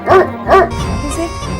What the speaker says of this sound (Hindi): कुत्ते हैं, आपस में लड़ रहे हैं, दिखाई नहीं दे रहा कैसे भौंक रहे हैं